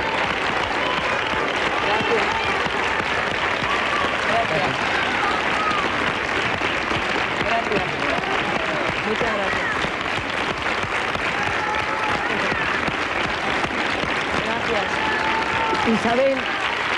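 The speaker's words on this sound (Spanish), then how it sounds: "No quiero cortar estos aplausos del público que nos acompaña en Tiempo al Tiempo" Sustained, even applause from a television studio audience on Tiempo al Tiempo honoring Isabel Pantoja, a thick wash of many clapping hands continuing unbroken and at a constant level for well over fifteen seconds.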